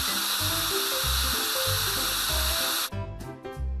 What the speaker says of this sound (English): Drag the washer along the vehicle and remove the rust